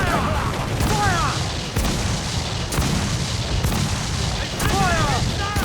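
Ship cannons in a pirate naval battle in Assassin's Creed IV Black Flag fire in heavy, rolling broadside volleys, several deep booms spaced about a second apart, with shouting voices and clamor of combat around them.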